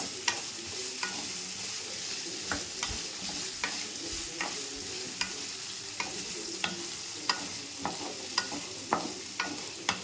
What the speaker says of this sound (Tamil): இந்த உருளைக்கிழங்கை நம்ம வறுக்க வேண்டியதான். எண்ணெய் ஊற்றி இருக்கிறோம்ல, அந்த எண்ணெயிலேயே நம்ம ஃப்ரை பண்ணிக்கிட்டே இருக்க வேண்டியதான்.